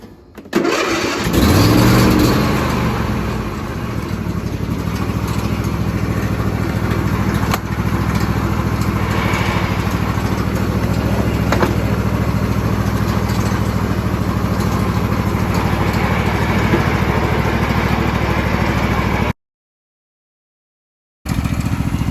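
Mud mower engine cranking and catching, then running loud and steady close by for about twenty seconds with a brief break near the end, no talk.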